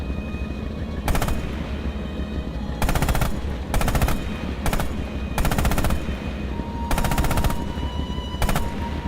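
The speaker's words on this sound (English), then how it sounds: "Use the hull MG and open fire on the targets." Tank hull machine gun in the video game Rising Storm firing in repeated loud bursts of rapid shots separated by short pauses, over a constant low engine rumble.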